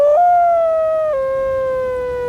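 A voice imitating a wolf howl, one loud sustained tonal call that holds steady, then steps down in pitch and trails off.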